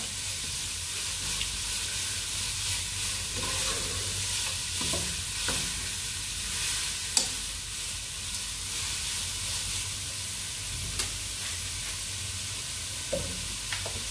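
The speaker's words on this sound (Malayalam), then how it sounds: "ഇനി ഇതൊന്ന് നന്നായിട്ടൊന്ന് വഴറ്റിയിട്ടൊന്ന് പൊത്തി അടച്ചു വയ്ക്കണം." Shredded cabbage and carrot for a Kerala thoran sauté in a pan, giving a steady low sizzle broken by occasional scraping clicks of a spoon stirring the vegetables, close and with no voices.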